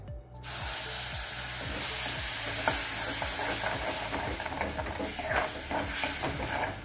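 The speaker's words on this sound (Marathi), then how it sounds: "तर प्युरी आता या मसाल्यात घालूया" Tomato puree for a no-onion, no-garlic potato and peas curry is added to frying masala, setting off a loud hissing sizzle with steady, regular spoon-stirring strokes throughout.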